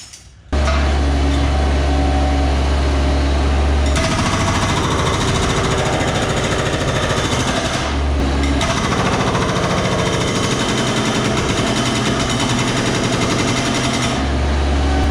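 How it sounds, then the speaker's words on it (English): A hydraulic jackhammer on an MT100 mini skidsteer pounds away during interior demolition, a loud, relentless rapid hammering that runs almost unbroken for the whole stretch. "the jackhammer is a little too much for the machine"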